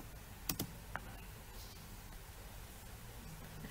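A few soft keystrokes on a computer keyboard click close by against a faint steady hiss, then the clicking falls quiet.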